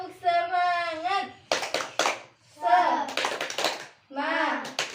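A fifth-grade primary school class performs a rhythmic clapping chant, with children's voices chanting in a sing-song pattern between bursts of sharp, patterned hand claps, close and lively.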